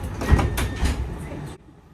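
A brief whooshing slide of tram doors closing in Canberra, ending in a soft thud, then near quiet with low background hum.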